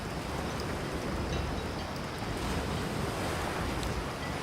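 Waves and wind rush steadily while sailing a Melges racing boat in the video game Virtual Skipper 5, forming a continuous, even wash of noise with no voices.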